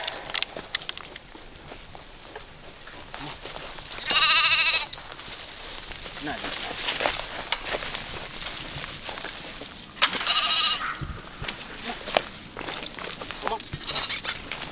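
Sheep bleating outdoors on a homestead as they are moved toward a cabin, two loud nearby bleats a few seconds apart and a fainter one later, with rustling and footsteps in between.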